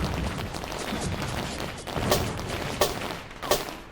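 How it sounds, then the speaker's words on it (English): Fireworks closing a music track: three sharp bangs near the end, spaced under a second apart, cutting through a dense, steady bed of music. "just a little bit of fireworks at the end"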